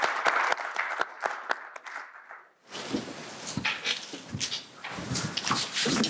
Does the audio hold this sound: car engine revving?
no